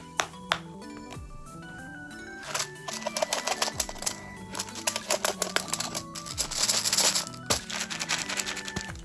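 Plastic pony beads and letter beads rattle and clack as they are sorted by hand for bracelets, with dense clicking bursts that thicken toward the end, close and fairly quiet, with no talking.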